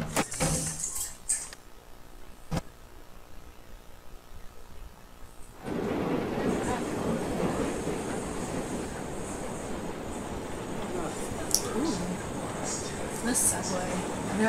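Subway train ride in the video game SOMA: after a quieter stretch, a dense, steady rumble of the moving train sets in and continues, with occasional sharp clanks and rattles.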